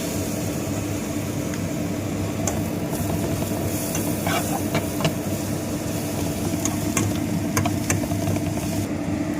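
Ginger garlic paste sautéing with onions in a pan for a soya chunks dish, a steady close sizzle with scraping stirs and occasional clicks of a spoon against the pan, no talk.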